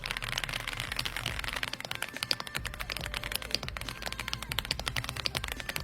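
Fast continuous typing on an AULA F99 Pro mechanical keyboard, dense close clacking keystrokes in an uneven rhythm, fairly quiet.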